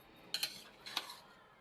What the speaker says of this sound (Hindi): यहाँ से इस तरह से चम्मच डालेंगे और इस तरीके से चावल को खोल लेंगे हम